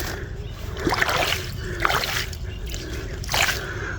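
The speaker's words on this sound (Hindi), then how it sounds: "ये देखें दोस्तों बड़े प्यारे अंदाज में अल्हम्दुलिल्लाह खाल में पानी बह रहा है" Water flowing into a field channel on farmland, a continuous trickling wash with irregular splashes and gurgles at close range, with faint background voice.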